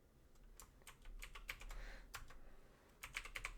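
Keys on a computer keyboard are typed in short bursts while entering a sudo password during an Ubuntu install in Hyper-V. The crisp, quiet taps come in uneven clusters over a faint background hum.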